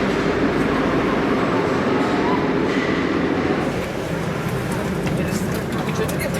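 Metro train rumbling through a tiled underground station, a loud continuous roar of wheels and carriages with a dense echoing wash and voices underneath.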